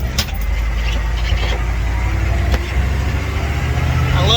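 A military M1097A2 Humvee drives off-road through a ditch with a loud, steady engine roar and rumbling low end, close and continuous throughout.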